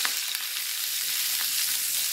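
Salmon fillets sear skin side down in hot oil, giving a steady, close, loud sizzle of frying with fine crackling throughout and no voices.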